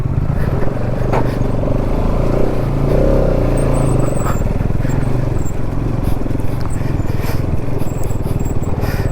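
A Bajaj Pulsar NS200 motorcycle engine labors loudly while climbing a rough off-road trail at night in North Sikkim, a steady droning growl with fluctuating revs and rattling knocks, close and continuous.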